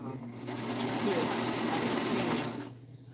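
A serger sewing machine runs in one continuous close, loud whirring burst of about two and a half seconds, with rapid needle chatter and a steady motor hum throughout.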